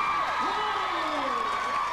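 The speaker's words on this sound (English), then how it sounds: "we need to give Max Scorpio the biggest round of applause" Audience at a fan question-and-answer event applauding and cheering for a guest, a sustained, fairly distant blend of clapping and crowd noise with voices calling out over it.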